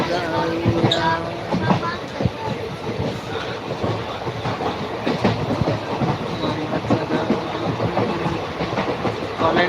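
A train rumbles along the rails with rhythmic clacking and rattling carriages, heard from inside a passenger carriage, while people talk over the noise.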